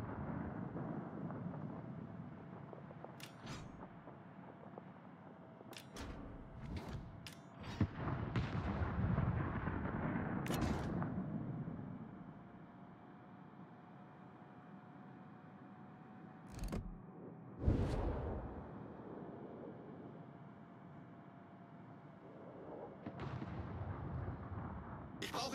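Naval artillery fire in World of Warships, with a Tier 9 USS Johnston destroyer: several sharp gun blasts in scattered bursts, followed by rumbling booms over a steady low engine and sea drone.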